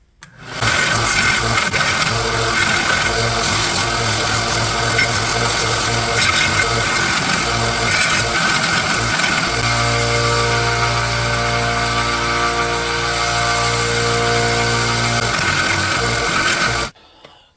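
A belt sander grinds surface rust and corrosion off a 100-year-old cleaver blade, a loud continuous rasping drone that shifts to a steadier pitch partway through and stops abruptly at the end.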